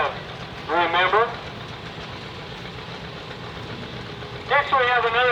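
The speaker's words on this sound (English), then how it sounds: "Next we have another tractor" A two-cylinder tractor idles along in a Sunday thresheree parade in Richfield, Wisconsin, giving a steady low, pulsing putter. A loudspeaker announcer talks over it twice.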